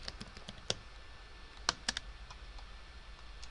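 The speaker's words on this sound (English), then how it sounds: "here I'm going to pause it and type in my notes" A computer keyboard is typed on in quick irregular bursts of close, crisp key clicks with a few louder taps, in a quiet room.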